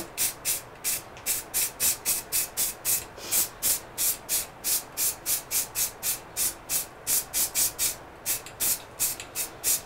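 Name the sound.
spray paint spraying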